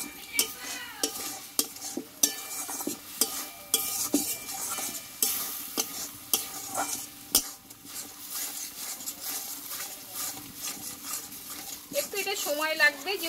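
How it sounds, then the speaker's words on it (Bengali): A spatula scrapes and stirs egg with yardlong beans in a pan, with steady rhythmic strokes over a low sizzle of frying. The mix is being dried out as it cooks, and someone talks at intervals. "একদম এটা শুকনো শুকনো করে কষে নিতে হবে"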